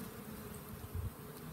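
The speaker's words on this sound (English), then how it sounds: "you can tell I'm getting a lot of bees around me because they were the foragers that were out foraging" Honey bees hum around an opened beehive as foragers return and swarm close by, a steady, faint insect drone with a brief louder swell near the end.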